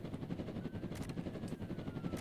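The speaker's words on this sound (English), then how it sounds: "Little do they know, I can become a helicopter." A helicopter car whirs in the Roblox Jailbreak video game, a faint, steady rotor chop pulsing rhythmically throughout.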